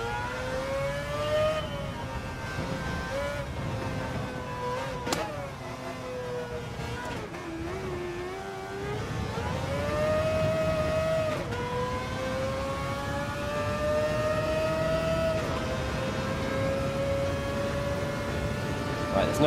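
Race car engine lapping Le Mans in Gran Turismo 7, a steady loud tonal drone that rises and falls with revs and gear shifts across the run, with someone talking over it.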